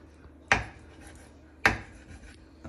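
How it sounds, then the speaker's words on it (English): A knife chops through raw chicken pieces on a cutting board, two sharp, separate cuts about a second apart, quiet and close, with a faint room background in between. "Now, I like to cut my chicken up into about thirds"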